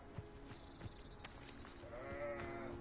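A sheep in the video game Hogwarts Legacy gives one wavering bleat late on. The bleat is faint and a little distant over low ambient game sound, with a couple of soft thuds before it.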